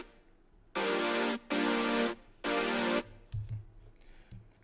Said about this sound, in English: It's just saw patch detuned and unisoned in here.